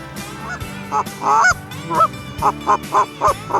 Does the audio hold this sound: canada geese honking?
yes